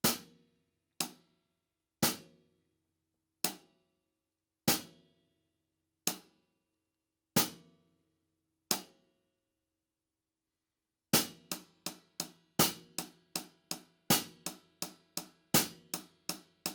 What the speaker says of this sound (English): we're going to use the shank tip method here to generate our hi-hat accents